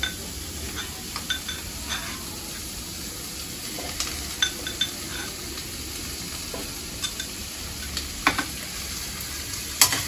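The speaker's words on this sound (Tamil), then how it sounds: "எல்லாத்தையும் கொஞ்ச நேரம் வதக்கணும்." Garlic-ginger paste sizzles steadily in a hot pan as it is sautéed, with a continuous frying hiss and frequent light scrapes and clinks of a spoon stirring against the metal, close and without speech.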